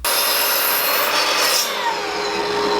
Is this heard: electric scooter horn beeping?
no